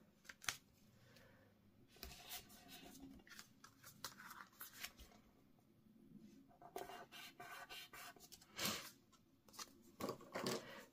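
Paper edge trimmed while making a card with an envelope from a Paper Pumpkin kit, heard as faint, intermittent snips and dry rustles with short pauses between them, close by and without talk.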